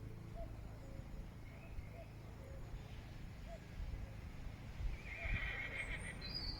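A horse whinnies a few times in the distance, faint against a steady outdoor background of low rumble and soft ambient noise.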